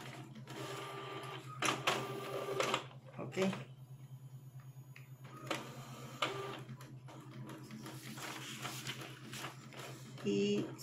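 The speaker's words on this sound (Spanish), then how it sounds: "empieza a imprimir la hoja donde se encuentra la dirección IP" An Epson L3251 inkjet printer printing a network status sheet: steady mechanical whir with repeated bursts of carriage and feed clatter, close by, with someone talking intermittently over it.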